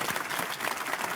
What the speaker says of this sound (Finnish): Annetaan Corsalle aplodit